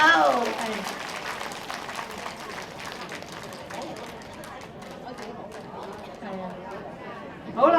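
A concert audience in Singapore applauds for a singer, clapping steadily at moderate volume from start to end, with a host's voice speaking over it at the start and again near the close.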